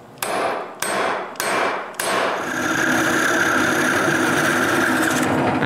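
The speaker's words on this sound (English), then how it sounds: "Then I file a washer hole square to fit the carriage bolt." Metal file rasping a square hole in a steel washer to fit a carriage bolt for a wooden bandsaw: four loud, close strokes, each a rough scrape with a sharp start, then a steady workshop hum with no talk.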